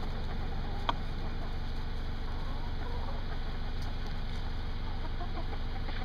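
Chickens cluck among a yard of fowl while a steady engine-like drone runs underneath, with one brief sharp sound early on and no voices.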